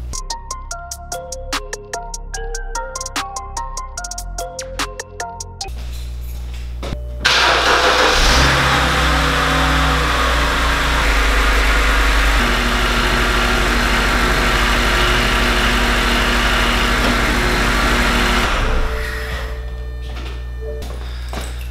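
A BMW E91 engine cranks and fires after an oil change, then settles into a steady, loud idle that runs for over ten seconds before dropping off, preceded by clicking and chiming from the dash.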